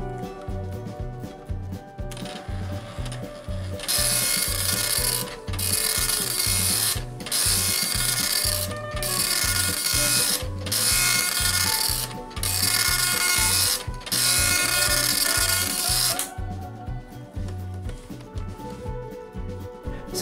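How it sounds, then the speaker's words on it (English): Commodore MPS 803 dot-matrix printer running a test page with a fresh ink ribbon: loud, rapid mechanical buzzing in repeated line-long bursts separated by brief carriage-return pauses, with steady ratcheting clicks throughout. "I could finally run the test page again,"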